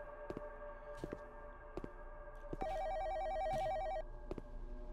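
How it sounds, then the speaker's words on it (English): A phone rings in another room in a horror video game, its faint electronic trill beeping over quiet ambience and soft thumps, heard alone. "Phone's ringing in the other room"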